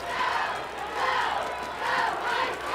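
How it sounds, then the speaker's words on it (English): Crowd at a high school football playoff game, Alamo Heights versus Miller, chanting and cheering in steady rising and falling waves of massed voices, fairly loud and continuous. "The crowd is chanting them on, cheering them on, hoping for something positive here."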